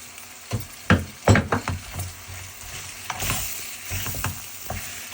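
Katla fish heads go into a hot pan of oil, sizzling while a utensil knocks and scrapes against the pan in a few uneven clatters, close and moderately loud.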